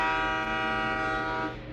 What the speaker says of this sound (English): We gotta let the train pass us, which happens often.